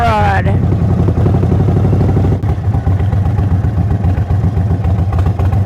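A 2023 Indian Sport Chief motorcycle with a Stage 2 upgrade rumbles loudly while riding, a deep throbbing V-twin exhaust that briefly dips before surging again, heard up close with a rider's voice over it.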